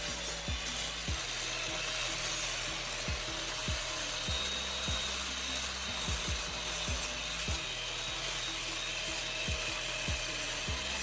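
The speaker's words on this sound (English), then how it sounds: "I'm now using an angle grinder to smooth out any rough edges" An angle grinder smooths the rough edges of a sickle converted into a grass cutter, giving a continuous high-pitched metallic whine with rhythmic rasping strokes close by.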